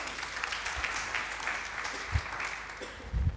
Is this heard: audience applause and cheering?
yes